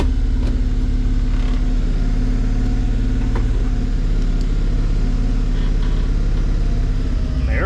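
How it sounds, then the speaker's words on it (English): A 1997 Honda Acty's small engine idles steadily and a little high, a constant close mechanical hum with low rumbling harmonics and no talking throughout. "Fires right up. Still idles a little high."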